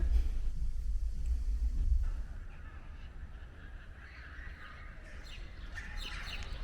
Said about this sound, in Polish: Ptaszki śpiewają.